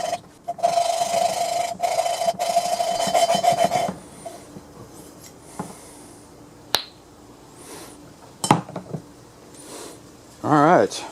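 Valves being lapped on a small lawnmower engine, a gritty rubbing and rasping that goes on in bursts for the first few seconds, followed by quieter scattered taps and scrapes.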